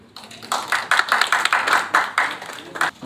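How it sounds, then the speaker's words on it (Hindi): Audience clapping at a press conference for a biopic film, a quick series of sharp, fairly close claps with a regular beat, several hands overlapping, briefly rising in a small burst. "तालियों के साथ स्वागत करें,"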